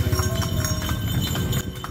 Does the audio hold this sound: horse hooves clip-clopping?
yes